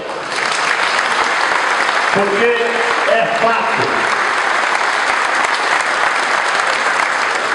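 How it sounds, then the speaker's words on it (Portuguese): A lecture audience applauds donors in steady, dense clapping that fills the whole stretch, while a voice briefly speaks over it. "Eu quero, antes de mais nada, pedir uma salva de palmas às donadoras"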